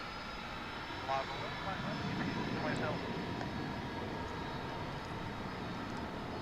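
A UPS jet airliner departs DFW International Airport bound for Louisville, its engines a steady broad roar throughout, moderately distant and constant with no talk over it.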